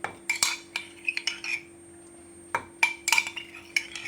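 A spoon clinks and scrapes against a pot while stirring chicken curry soup just mixed with natural yogurt and curry powder, in short irregular bursts of metallic clinks separated by quiet pauses, close and alone.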